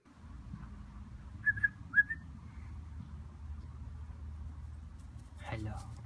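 A person whistles to call a cat, giving a few short, faint whistle notes over low background noise, with a brief rustle near the end.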